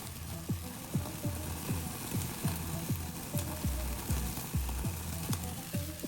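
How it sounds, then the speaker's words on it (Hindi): Chicken roasting over an open direct flame for a smoky char: a steady close sizzle and hiss with regular soft popping pulses about twice a second, no voices. "इसको थोड़ा सा भून लेंगे डायरेक्ट फ्लेम पर ताकि उसमें वो स्मोकी फ्लेवर आ जाए"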